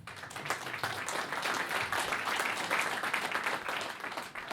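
Steady, dense audience applause at an inter-club business event fills the whole stretch at an even level, many hands clapping together without a pause.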